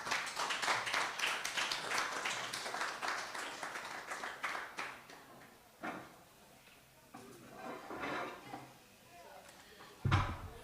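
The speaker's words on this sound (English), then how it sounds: "A round of applause again for him, please." An audience at a church-hosted program launch claps in a dense round of applause that gradually thins out and fades into scattered claps and faint room noise.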